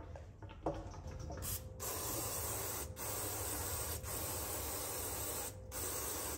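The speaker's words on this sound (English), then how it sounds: "Go put this in my parts washer." Parts washer spraying solvent over a GM 8.6 rear end part, a steady close hissing spray that runs continuously with brief breaks and faint clatter of the part being handled.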